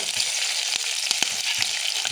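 Salted cabbage frying in a pan, a close steady hiss with short scrapes and knocks of a spoon against the pan scattered through.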